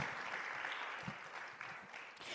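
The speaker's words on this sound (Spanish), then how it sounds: "Si puede darle sus palmas al Rey, désela con toda libertad" Church congregation clapping together during a worship service, a steady continuous wash of applause with no pauses, moderately distant and even in level.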